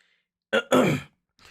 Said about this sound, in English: I wasn't meant to clear my throat.